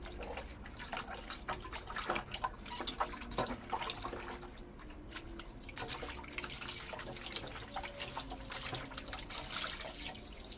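Tap water runs steadily over pig intestines being rinsed in a sink, with trickling, splashing and dripping and occasional sharper splashes, close and continuous with no talk.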